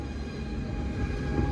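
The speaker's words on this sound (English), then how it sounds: "can you imagine the train that came in? The old one, stupid one." An old train pulls into a station with a low, steady rumble of railcars and wheels, moderately loud and continuous over a brief moment.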